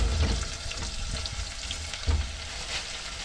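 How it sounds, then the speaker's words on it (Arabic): Garlic fries with peppers in a pan, a close, steady sizzle broken by scraping stirs and a couple of low clunks from the utensil against the pan, with no voices. "نحط حته ثومه يعني كده ونقلب"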